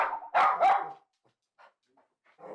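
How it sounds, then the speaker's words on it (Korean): An excited poodle lets out two loud, close barks in quick succession, followed by a pause and then softer yips and whines. "그렇게 짖어도 소용이 없어."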